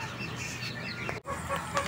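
A chicken clucks a few times in short bursts over steady farmyard background noise, with no voices.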